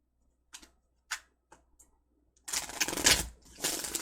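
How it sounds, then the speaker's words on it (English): A deck of tarot cards being shuffled, a few soft isolated riffles and taps followed by a louder, continuous burst of close shuffling, with no talking. "I'm going to do a shuffle since it's taking a second here."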